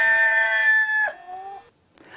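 A rooster crows once, loud and close: a long, strained, harmonic call that holds, then drops and trails off, followed by a brief pause and a faint noisy rustle.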